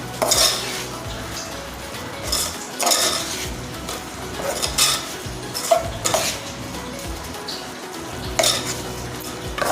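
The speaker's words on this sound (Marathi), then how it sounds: "तर आता ही कालवून घेते." Puran poli ingredients, including ground cardamom, are mixed in a bowl with a utensil, making repeated scraping and clinking strokes in an irregular rhythm, close and fairly clear, with no talking.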